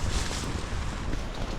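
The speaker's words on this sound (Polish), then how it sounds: "ten szalony wiatr, który tutaj jest" Strong wind roars steadily outdoors in Saltdal, Norway, a loud broadband rush buffeting the microphone for the whole stretch with no voices.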